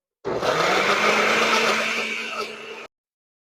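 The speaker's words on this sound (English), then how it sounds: "Go ahead and blend my ginger." A blender whirs steadily for about two and a half seconds, blending ginger with water, a dense, loud motor roar with a bright grinding edge that starts and stops abruptly.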